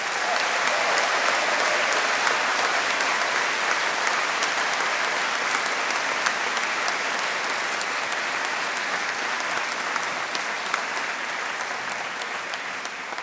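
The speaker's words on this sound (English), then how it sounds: "So perhaps we could have a collective applause for the entire class." A large crowd at a graduation ceremony claps steadily and continuously, a dense even wash of applause that holds without pause throughout.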